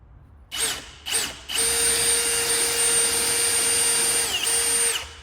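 A power drill whines loud and close, with two short bursts followed by a long steady run as it bores a hole, set against concrete for a gutter bin install.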